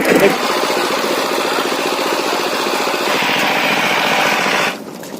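A tractor engine drones steadily and loudly at close range, running evenly for several seconds before cutting off abruptly near the end.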